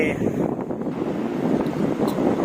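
Strong wind gusting at a lakeside fishing spot near an old village, a steady loud rush and buffeting across the microphone with no voices.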